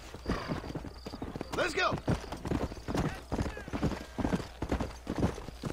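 In the Red Dead Redemption video game, a horse's hooves clip-clop rapidly at a gallop and the horse gives a high neigh, while someone talks over the hoofbeats.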